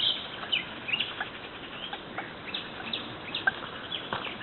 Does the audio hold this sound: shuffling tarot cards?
no